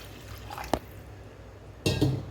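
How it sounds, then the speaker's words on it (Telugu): Water is poured into a pan of raw prawn gongura curry, a brief splash followed later by a louder burst of pouring and sizzling liquid, close up with no talk. "ఇప్పుడు ఇందులో కొంచెం వాటర్ అయితే వేసుకుంటున్నా"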